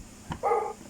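A small Japanese toy gives a short electronic dog bark, one brief yip after a faint click, quiet and close with no talk.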